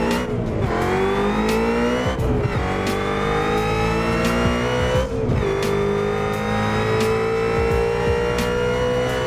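A Mustang GT350 tuned to 770 horsepower, driven through traffic in Assetto Corsa, roars continuously with a loud exhaust, its pitch climbing through the gears with sharp shift breaks every few seconds.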